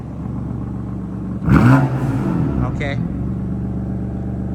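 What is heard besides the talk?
BMW M4 F82 engine revving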